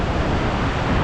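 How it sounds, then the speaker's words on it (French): Strong wind during a hard hike near Fitz Roy rushes steadily over the forest, a dense, loud, broadband roar with no pauses and no voices. "Le vent passe par-dessus."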